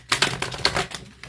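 Quick, crisp riffling clicks of cards being shuffled, a rapid flurry of light taps close by.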